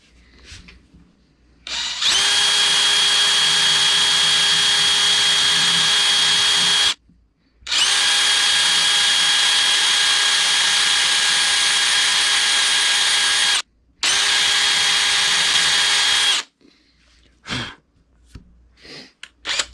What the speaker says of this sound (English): So now we're going to drill all the way through.